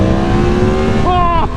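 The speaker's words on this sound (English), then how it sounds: "the harder you ride it, the more noticeable the sound from that airbox is" A 2022 Yamaha MT-10 motorcycle roars at close range, its engine and airbox intake giving a loud, steady drone before the pitch jumps as it revs.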